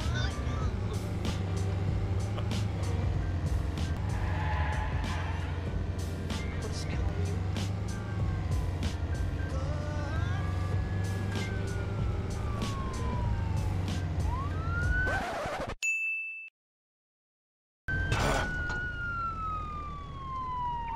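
A car drives in Arma 3 with a police siren wailing over a steady engine drone, horns and traffic around it, loud and continuous until a sudden brief dropout near the end, then resuming.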